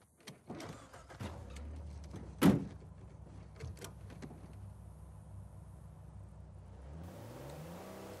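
A car pulls away in Uncharted 4, with a low engine hum and whir building under a few door-like clunks and a sharp thump, then a rising rev as it drives off near the end.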